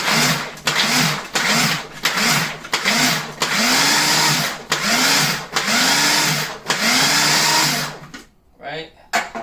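A food processor chops coarse garlic in a run of short pulsed bursts, each a rising whirring motor whine separated by brief stops, loud and close, with a voice heard near the end.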